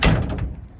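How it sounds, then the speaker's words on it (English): The door of a 1958 Chevrolet 3100 pickup truck shuts with one solid close thump that fades quickly. "the doors actually do shut pretty good"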